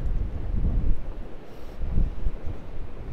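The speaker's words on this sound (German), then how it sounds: "So, jetzt windet es extrem da. Die Luft zieht richtig durch." Strong gusty wind on the trail to the Caminito del Rey in Andalusia, Spain buffets the microphone in low, uneven roars, rising and falling over a few seconds with no voices.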